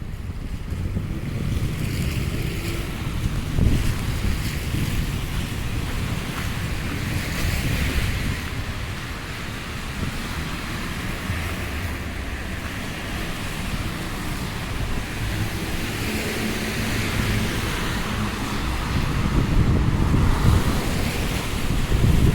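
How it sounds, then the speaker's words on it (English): Meltwater from thawing snow runs along a city street in Halifax's South End, a steady broadband rush of flowing water mixed with wind and distant traffic, continuous and fairly loud throughout with no voices. "Lots of water running today from the snow melting."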